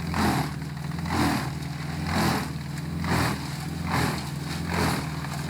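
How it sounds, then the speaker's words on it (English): A BC21000XL wood chipper with a 275 horsepower engine runs loud and close, its engine note swelling and easing in a regular rhythm about once a second, no voices over it. "the BC21000XL, with its powerful 275 horsepower engine and robust features, easily handles this task"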